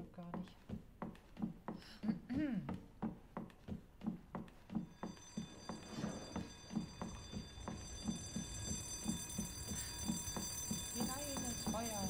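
Fire alarm blaring in Resident Evil 2 Remake, a loud repeating ring pulsing at an even rhythm, then turning into a continuous shrill tone, with someone talking over it throughout.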